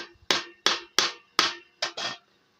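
A PVC pipe hammered into the neck of a plastic bottle, six sharp, close blows in an uneven rhythm, each ringing briefly before the next, with no voices.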